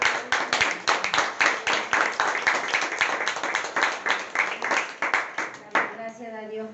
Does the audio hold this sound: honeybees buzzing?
no